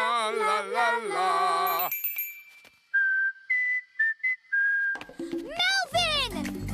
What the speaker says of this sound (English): Melvin might whistle back.